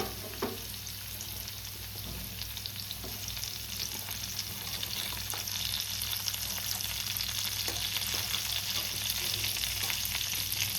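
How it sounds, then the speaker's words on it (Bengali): Steady crackling sizzle of potatoes frying in hot oil, continuous and close, with a faint low hum underneath and occasional soft clinks. "তো এবার আমি এর মধ্যে আলুটা ছেড়ে দিচ্ছি।"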